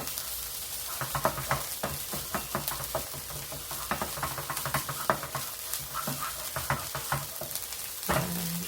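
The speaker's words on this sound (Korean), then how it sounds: "나무주걱으로 이렇게 잘 저어 가시면서 곱게 다진 고기의 모양이 보이도록 볶아 주셔야 됩니다" Minced beef stir-fried in a pan with a wooden spatula, a steady sizzle broken by repeated scraping strokes at an irregular rhythm, close and fairly loud throughout, with no talking.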